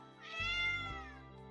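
A cat gives a single drawn-out meow that rises and falls over about a second, clear and close, used as a sound effect in a children's bedtime story.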